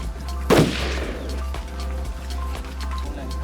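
A single sharp rifle shot cracks at a shooting competition, fired from the prone position. It comes up close and loud, then tails off into echo and quiet range ambience with faint clicks.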